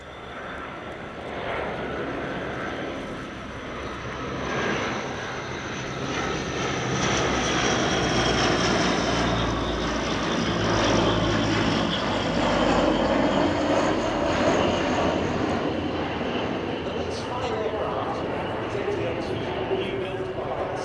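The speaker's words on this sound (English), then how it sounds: "Bring the aircraft in now for a search and rescue support configured pass." A French Navy Atlantique 2 maritime patrol aircraft, configured for search and rescue support, makes a flying display pass at RIAT; its turboprop engine drone swells steadily and stays loud and sustained throughout.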